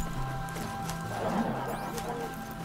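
Hooves of a ridden mount clip-clop steadily in the video game Horizon Zero Dawn: The Frozen Wilds, a moderate rhythmic trot beneath sustained game music and ambient tones.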